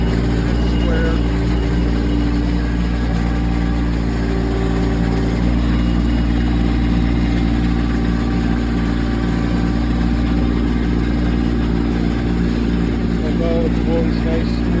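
A 2024 Kubota LX2620HSD hydrostatic tractor engine runs at a smooth, steady idle close by, its even low hum continuous throughout while a person talks over it.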